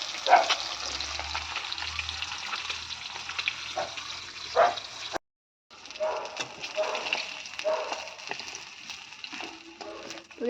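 Rohu fish pieces frying in oil in a pan for a Bengali fish curry: continuous crackling and spattering, with a short silent break partway through and faint background noise.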